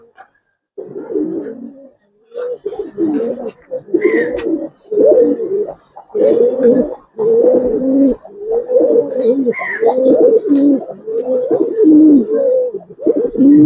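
Aluminium silver Giribaz pigeons coo close up in repeated throaty, rolling phrases with short pauses between them. A voice speaks briefly.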